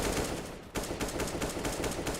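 Rapid automatic gunfire rattles in quick bursts in a first-person shooter match, the shots close and continuous with a brief pause early on.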